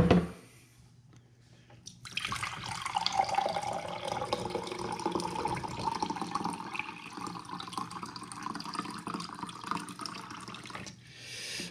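Water pours steadily into a vessel for French press coffee, a close, continuous splashing flow that lasts about nine seconds before stopping, with no talking.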